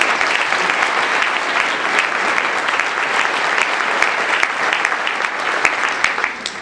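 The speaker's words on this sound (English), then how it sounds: "Can I have one more round of applause for our great majority?" Loud, sustained applause from an audience at a town's State of the Town address, a thick unbroken roar of many hands clapping evenly throughout with no voices rising above it.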